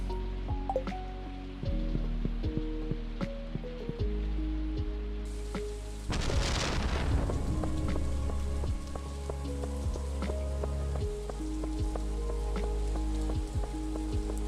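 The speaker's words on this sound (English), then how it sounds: "The rain with the lo-fi, y'all." Rain patters steadily in the farming video game Stardew Valley, soft continuous drizzle under lo-fi background music with plucked melodic notes, one brief louder splash-like burst partway through.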